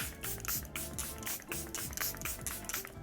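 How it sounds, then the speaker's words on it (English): A Charlotte Tilbury setting spray mists in a quick series of soft, close hissing bursts, pulsing about every half second on a quiet background. "we're gonna go ahead and we're gonna do a 2nd set of spray"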